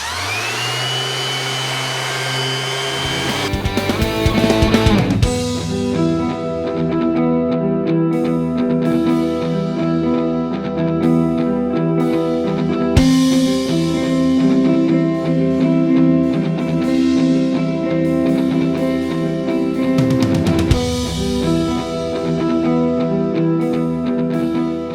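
A buffing pad runs steadily on a maple shelf, a loud continuous motor whine with a few brief bumps and pitch shifts as it starts up and moves across the wood, with no talking.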